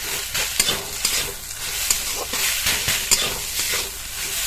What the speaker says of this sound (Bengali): একটু মশলাটা ভেজে নিতে হবে।